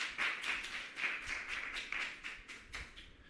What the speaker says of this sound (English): Give her a bigger round of applause for me